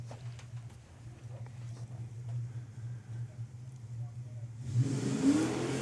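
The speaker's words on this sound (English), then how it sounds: "That's Neil down there doing the burnout." A drag racing car in the Nostalgia Eliminator class at a drag strip, heard at a distance as a steady engine drone that rises into a louder revving roar near the end, with faint crowd or commentary noise underneath.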